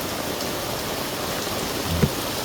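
Steady rain falling outdoors, a dense even hiss of drops hitting surfaces with one brief louder knock near the end and no voices.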